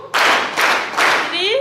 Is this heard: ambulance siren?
no